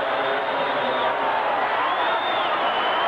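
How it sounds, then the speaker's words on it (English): A football stadium crowd at a Monday night Broncos at Raiders game roars steadily in a broad, distant wash of voices, the chant blending into continuous crowd noise. "They are chanting, "Go for it,""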